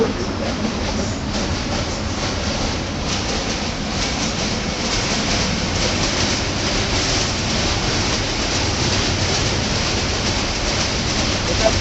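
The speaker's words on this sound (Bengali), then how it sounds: "সম্ভবত কোনো ট্রেন আসছে এখন" A train crosses a bridge over the Padma River, a loud continuous rumble with rhythmic clattering of wagons that fills the whole stretch.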